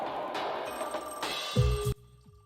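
A telephone rings briefly in a room, a short electronic bell burst that cuts off abruptly, with a faint steady background hum and no talking.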